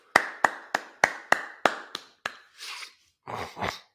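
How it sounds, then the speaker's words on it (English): Group clapping at a Sabbath service, about eight crisp, evenly spaced claps in a steady rhythm, then two short bursts of softer scattered noise; fairly close and moderately quiet, with no talking. "Let's clap that up."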